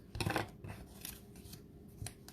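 Scissors snip through paper, cutting out craft wheels for a children's tractor project, with a quick run of close, crisp cuts followed by a few lighter snips in a quiet room.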